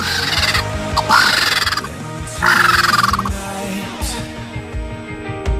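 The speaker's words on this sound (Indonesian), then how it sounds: "Seekor burung vultures dapat mendesis dan membuat suara mendengus yang menyeramkan" Harsh, breathy hisses mixed with guttural grunting calls from a vulture, heard close up in two loud bursts with rough noise between.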